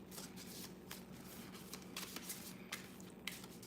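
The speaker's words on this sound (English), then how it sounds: "I'm gonna shuffle 3 more times." Playing cards shuffled by hand during a relaxed live stream, a soft continuous riffle with small ticking snaps, close to the microphone and faint.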